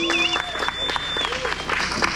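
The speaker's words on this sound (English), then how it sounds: "A little clap for him, please" Audience at The Smoking Jacket 2023 clapping steadily, a dense patter of applause from a small crowd, with voices chatting underneath.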